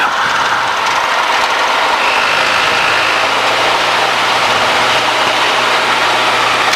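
Light aircraft G-BOIL's piston engine runs steadily at 1700 RPM, a continuous loud drone with a low hum emerging midway, no voices over it.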